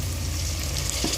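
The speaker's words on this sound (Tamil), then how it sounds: "இது நல்லா மேஷ் ஆகிற அளவுக்கு நல்லா வதக்கிக்கலாம்" Chopped tomatoes and curry leaves sauté in hot oil in a pan, giving a steady, close, dense sizzle with a slight stirring scrape near the end. No one talks.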